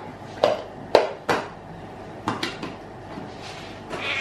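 A kitchen knife chopping an onion into pieces on a board, a handful of sharp, separate knocks spaced irregularly, close and fairly loud against a quiet room.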